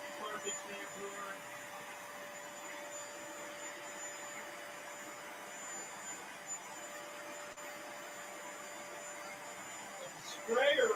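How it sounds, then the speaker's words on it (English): A carpet shampooer whose sprayer no longer works runs its suction motor in a steady, droning whine with a constant tonal hum. A brief clatter comes near the end. "Shampooer, carpet shampooer."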